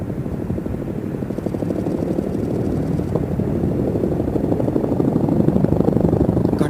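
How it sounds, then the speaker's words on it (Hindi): Two Chinook tandem-rotor heavy-lift helicopters carrying M777 guns as underslung loads at an Indian Air Force firepower demonstration at Pokhran, a loud, continuous rhythmic rotor thump and engine roar that grows slightly heavier, with no voices. "2 heavy lift tandem rotor Chinook helicopters, call sign Hanuman, carrying 2 M777 guns of the Indian Army as underslung load"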